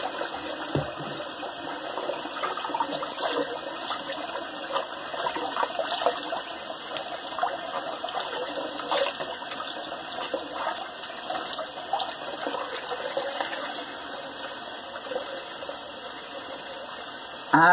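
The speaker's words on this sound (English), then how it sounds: "Let me rinse my face," Water runs steadily from a bathroom tap while someone rinses their face after a three-pass wet shave, a continuous close hiss and splash lasting throughout with no talking.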